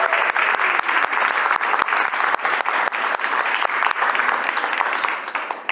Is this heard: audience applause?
yes